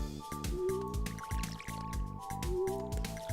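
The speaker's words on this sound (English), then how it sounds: "Didn't aim right with the watering can." Watering can pouring onto blueberry crops in the farming game Stardew Valley, a series of short splashy drip-and-squish effects repeating over a steady looping game music bed.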